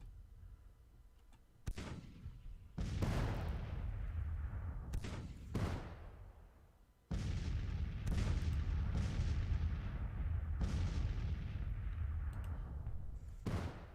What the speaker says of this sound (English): And 1st Division Artillery is firing.